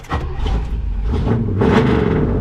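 A 1979 Chevrolet El Camino engine rumbling close by and rising in a rev, a deep throaty growl that swells toward the end; no one speaks.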